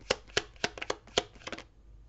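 Tarot cards being shuffled by hand, a close run of crisp papery riffles and slaps in an uneven rhythm that stops after about two seconds.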